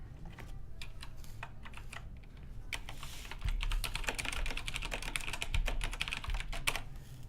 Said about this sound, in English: maybe that keyboard typing is a little too loud